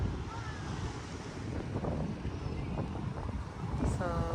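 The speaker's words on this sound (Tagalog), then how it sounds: "doon na ang alon" Sea waves at an Indonesian beach wash and break in soft, continuous surges under buffeting wind on the microphone, fairly quiet, with a faint whistling tone near the end.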